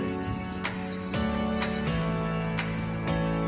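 Crickets on an Indonesian cricket farm in Medan chirp steadily and close by, a dense high-pitched trilling that pulses continuously with no voices.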